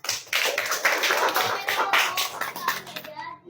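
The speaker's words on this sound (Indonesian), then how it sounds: "Tepuk tangan untuk kita semua." A primary school class in Indonesia claps together: a lively, close burst of many small hands clapping, with children's voices mixed in before it stops abruptly.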